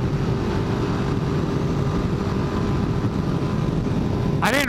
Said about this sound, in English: we've achieved wide open throttle